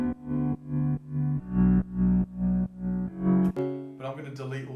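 UK drill beat with a half-speed and sidechain effect, heavy pumping bass and synth notes ducking in a steady rhythmic pulse, then a distorted, glitchy transition at the end.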